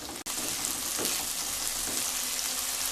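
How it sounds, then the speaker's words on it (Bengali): Ginger, garlic and onion paste frying in a pan for a Bengali cauliflower kalia, a steady close hiss of sizzling oil with faint stirring scrapes and one brief dropout near the start. "আদা, রসুন, পেঁয়াজ যখন খুব ভালোভাবে কষানো হয়ে যাবে"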